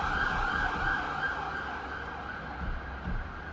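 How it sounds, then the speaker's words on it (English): An ambulance siren wails in the distance, rising and falling tones over a low background rumble of traffic, moderately faint and continuous. "There's even an ambulance on its way."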